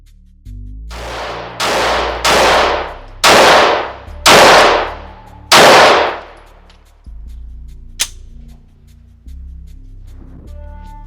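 Six loud, closely spaced shots from a Walther PDP pistol at a gun range, each a sharp crack with a short ringing decay, followed by a small metallic click and then quiet.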